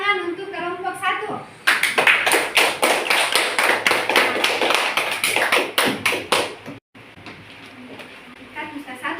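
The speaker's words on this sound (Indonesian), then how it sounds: "kalau begitu kita beri tepuk tangan untuk kelompok 1." Classroom applause for group 1, a burst of rapid clapping from many students that runs steadily for about five seconds, then cuts off, with a teacher's voice heard before and after.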